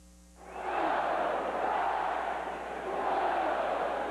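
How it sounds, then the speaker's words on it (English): A college-football stadium crowd at Autzen Stadium, Oregon hosting Arizona, swells from quiet into a loud, sustained roar of massed voices that holds steady, distant and diffuse, over several seconds. "Listen to this crowd. They have been chanting, "Go Ducks," the last 3 minutes."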